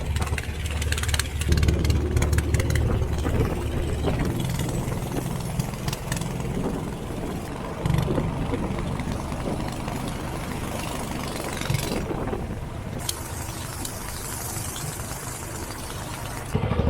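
A boat motor runs steadily and loudly throughout a tour ride past a lotus farm in Siem Reap, Cambodia, a constant droning rumble with slight surges and no pauses.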